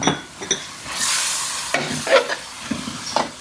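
Pickled bamboo shoots hit a hot pan for a northern Thai kua hoh stir-fry, giving a steady bright sizzle broken by repeated scraping stirs of a utensil, close and fairly loud with no voices.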